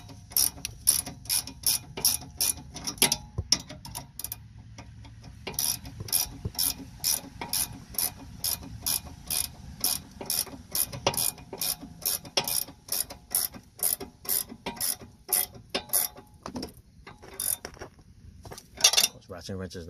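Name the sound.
ratchet wrench turning on Honda Civic sway bar link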